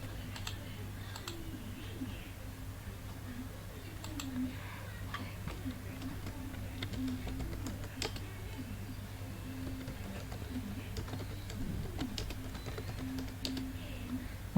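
Keys on a computer keyboard are tapped in short irregular bursts while an email address is entered, quiet and close over a constant low electrical hum.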